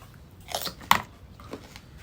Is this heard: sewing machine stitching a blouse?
no